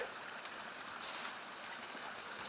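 A shallow stream being waded across on foot outdoors, its water rushing in a steady broadband wash with a brief splash near the start, close and moderately loud, with no voices.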